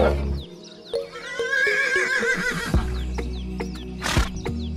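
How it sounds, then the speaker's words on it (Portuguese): Toy farm horses give a loud whinny and neigh with clip-clopping hooves, part of a cattle drive taking cows from the corral to pasture, with bursts of neighing and knocking hoof beats close up. "o Muriçoca, o Zeca já montaram no cavalo"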